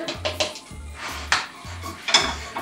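A metal utensil scrapes and clanks against a pan while breadcrumbs and prosciutto are stirred together for a crispy mac and cheese topping, giving repeated close scraping strokes with light knocks.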